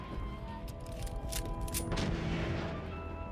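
Gunfire in Fallout 4 as an enemy is shot in the leg: a dense fusillade of loud, close shots and booming impacts running through the whole stretch with no pause.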